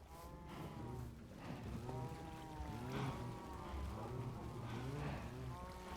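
Cows mooing in a Minecraft survival world breeding farm, several drawn-out game moos overlapping in steady succession at moderate loudness, without talk.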